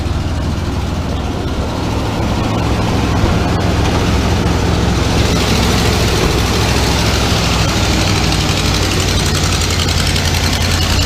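A 1988 Chevy Custom Deluxe 30 pickup idles loud and close with the hood up, a dense rumbling drone carrying a faint ticking from a possible exhaust or air-tube leak, steady throughout with no talking.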